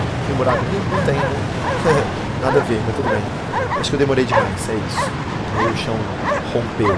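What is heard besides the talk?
dog barking in the video game Cryostasis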